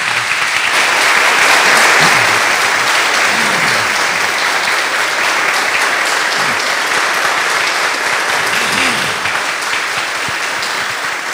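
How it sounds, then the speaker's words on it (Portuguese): A church congregation applauding during Sunday Mass, sustained dense clapping filling the space evenly for about eleven seconds, swelling slightly early on with faint low voices underneath. "mas podemos bater palmas de novo"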